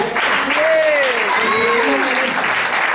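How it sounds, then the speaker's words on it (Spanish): A church congregation applauds during a Spanish-language worship service, with dense, steady clapping that fills the room for the full three seconds while voices call out over it. "Den un aplauso al Salvador."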